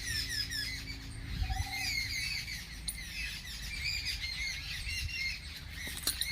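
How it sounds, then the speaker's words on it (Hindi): Many birds squawk, chirp and call continuously outdoors around a sunny rooftop on a winter day, their layered calls close and busy over a steady background hum, with no voices. "कितनी आवाज़ आ रही है इस तक चिड़ियों की।"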